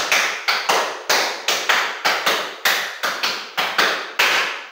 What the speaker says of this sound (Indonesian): tepuk 2, tepuk 3, tepuk 4, tepuk 5, tepuk 5 3 kali